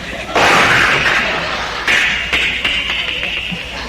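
A voice imitates a doorknob being wrenched off a front door: a loud, noisy rattling burst, then a second forceful scrape followed by a few shorter clattering jolts, all close up.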